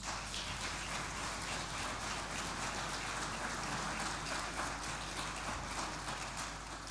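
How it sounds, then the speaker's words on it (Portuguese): Congregation applause during a church service, a faint, steady patter of many hands clapping against a low hum. "E assim vamos dar uma salva de palmas."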